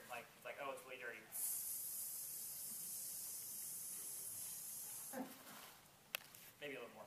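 Spray bottle misting the inside of a fursuit, a steady hiss lasting about four seconds and close to the mic, with brief speech before it and after it.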